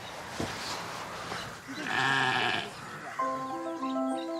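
Sheep bleat in the countryside, several calls close by, a long wavering bleat in the middle followed by another, with a faint voice and light background noise.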